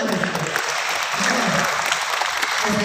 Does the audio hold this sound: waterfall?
no